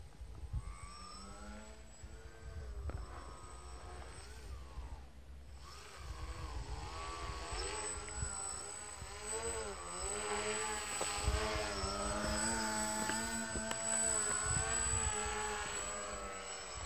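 A small camera drone hovers low over the ground in gusty wind, its steady propeller whine rising and wavering in pitch as gusts push it around, with wind rumble underneath and no talk.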